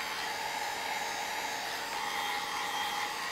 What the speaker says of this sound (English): The flying pieces of glue, just get a dryer and just go all around with a dryer.